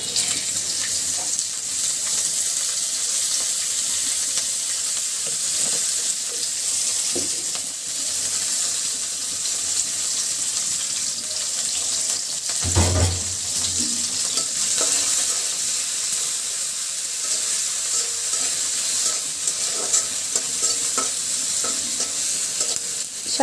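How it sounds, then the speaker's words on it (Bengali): Onion, chili and crushed garlic fry in oil in a wok for cooking greens, with a steady close sizzle, occasional stirring scrapes and a brief clatter midway. "তো কড়ার ভিতর দিয়ে দিচ্ছি শাক ভাজির জন্য পেঁয়াজ মরিচ, দিয়ে দিচ্ছি রসুন থেতো, দিয়ে দিব তেল"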